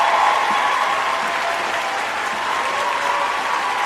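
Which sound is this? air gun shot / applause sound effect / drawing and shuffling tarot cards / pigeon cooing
applause sound effect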